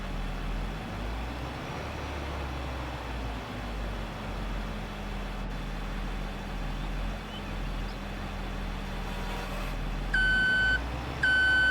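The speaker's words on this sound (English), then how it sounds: "you guys get to hear the beeping and everything now" Reversing beeps from a vehicle in Farming Simulator 22 on the Yukon Valley map, a steady run of electronic tones near the end over a constant engine drone and machinery rumble, with no talk.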